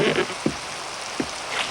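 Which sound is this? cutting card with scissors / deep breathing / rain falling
rain falling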